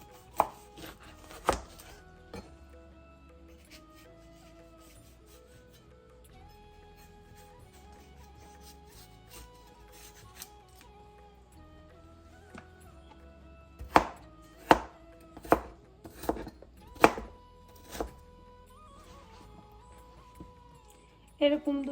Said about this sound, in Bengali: এই যে এভাবে করে কেটে নিতেছি।